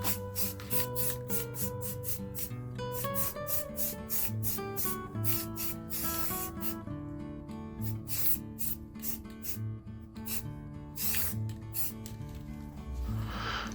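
Rust-Oleum sprays in short, repeated hissing bursts onto a metal scaffold frame, several quick spurts spaced across the span over quiet background music.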